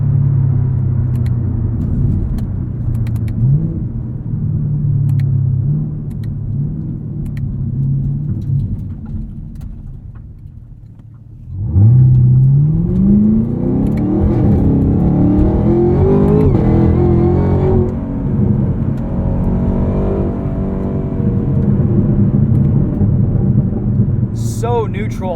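A 2022 Chevrolet Camaro ZL1 1LE with a 10-speed automatic is pushed hard through corners, its engine a deep, steady rumble that drops briefly, then surges into a rising revving climb, loud and close with no talking.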